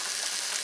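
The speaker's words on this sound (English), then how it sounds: "you guys can see my pasta is boiling" Pasta boiling in a pot of water for chicken Alfredo, a steady dense bubbling hiss that stays even and close throughout, with no voices.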